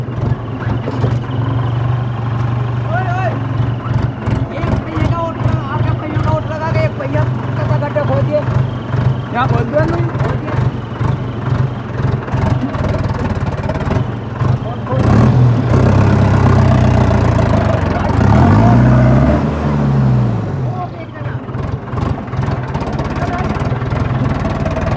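A tractor engine runs at a farm field with a steady, loud, low chugging pulse that thumps rhythmically throughout, while voices talk over it.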